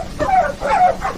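Dogs bark and yip in a dubbed Hindi action film scene: two or three sharp, whiny barks in quick succession, close and clear with no talk over them.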